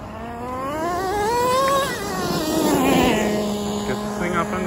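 A Traxxas T-Maxx 2.5 classic nitro RC truck engine screams on gravel, its pitch climbing steadily and then dropping, with a rough rising rev later and someone talking over it.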